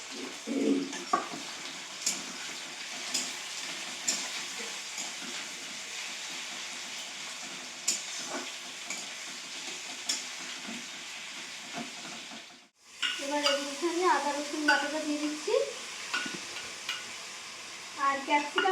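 Chicken and chopped onions frying in a pan with cardamom, bay leaf and dried red chillies, giving a continuous hissing sizzle with occasional stirring clatter, close by. A brief pause breaks the sound, and a voice is faintly heard afterwards.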